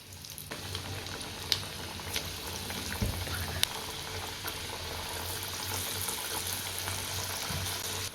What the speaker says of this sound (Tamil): இதே போல் மீதி இருக்கிறதையும் போட்டு பொறிச்சு எடுத்துப்போம்